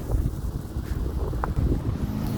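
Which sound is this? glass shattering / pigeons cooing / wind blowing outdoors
wind blowing outdoors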